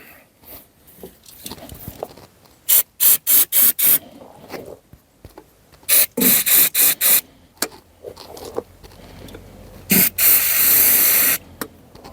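Brake cleaner sprays in short hissing bursts onto a worn, neglected 1972 Triumph 2000 Mk2 engine, several quick close squirts followed by a longer sustained spray, with quiet clicks and shuffling between them.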